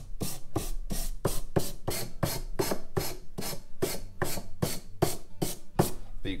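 Sandpaper of 400 grit wrapped on a wood block rubs back and forth along a guitar fret bevel, giving about fifteen steady, evenly spaced rasping strokes, close and moderately loud with no talk.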